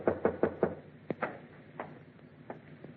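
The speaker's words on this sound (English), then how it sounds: "waited for your knock on my door" A radio drama knock on a door: four quick, firm raps up close, followed by a few scattered softer thumps and faint room noise.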